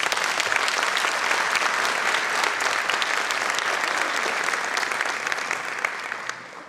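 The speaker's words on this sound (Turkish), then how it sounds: "Önce çok kuvvetli bir alkış alalım" Loud, sustained applause from a large concert audience, thick continuous clapping that tapers slightly near the end.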